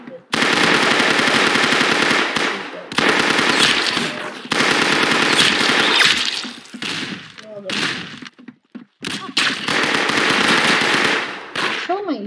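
Gunfire from a gun in the Arsenal video game, loud rapid automatic bursts in several stretches separated by brief pauses, with a voice talking in places.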